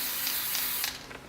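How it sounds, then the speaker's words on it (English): Black spray paint hisses from an aerosol can in one short, close burst, a bright airy spray that fades at the end. "I'm just gonna spray off a little bit"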